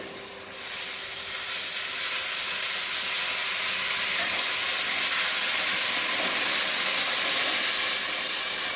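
Cashew-raisin paste and water hitting a hot pan release a loud, steady steam hiss and sizzle that starts abruptly and holds for several seconds, broad and close with no talk.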